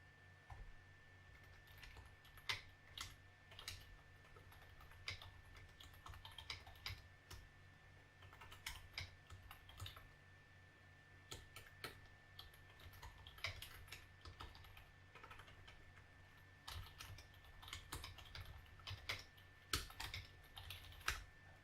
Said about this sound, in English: it's not very exciting to listen to my keyboard clack